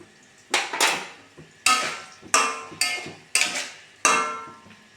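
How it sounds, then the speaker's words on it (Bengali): Metal spoon scraping and clanking in a pan of poppy-seed curry with potatoes and pointed gourd, five or six sharp close knocks at a steady rhythm, each ringing briefly before fading, no voices. "নাড়াচাড়া দিয়ে নিচ্ছি"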